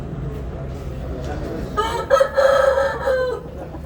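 A rooster crows loudly nearby amid clucking chickens at a bird market, with a noisy crowd murmuring in the background.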